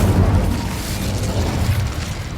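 In Hogwarts Legacy, the Incendio fire spell bursts loud and close, a booming whoosh of flame that sustains and rumbles for a couple of seconds.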